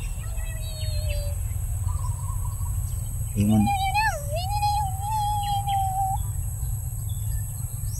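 Small birds chirp and tweet in a garden while they chase and play, with thin high calls scattered through, and one clearer whistled note rising then holding steady midway; a steady low background hum runs underneath, and a brief word is spoken.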